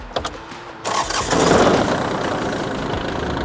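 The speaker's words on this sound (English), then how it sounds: "Start the engine." A few clicks, then the engine of a tractor with a Bobcat finishing mower cranks and catches, settling into a loud, steady idle close by.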